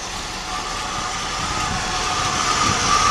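The engine of a 1979 Hurst Olds idles lumpy and not yet warmed up, a steady close rumble with a broad exhaust wash and no break.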